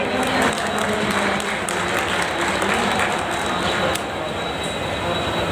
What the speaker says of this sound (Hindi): अगर आप लोगों का ये मानना है तो एक बार जोरदार तालियों के साथ बाबा साहब को जरा नमन कर दो